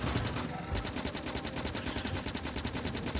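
Gun turrets in the video game Factorio fire at small biters in a steady, rapid chatter of automatic gunfire that runs loud and continuous throughout.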